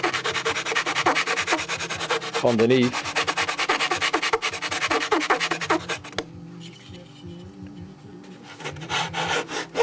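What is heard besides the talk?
sanding block rubbing wood edges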